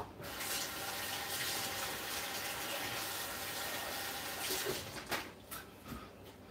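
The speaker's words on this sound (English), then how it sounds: "Licked all my fingers, now I'm gonna wash them." Tap water running into a sink while hands are washed, a steady gushing stream with a few splashes and clatters near the end.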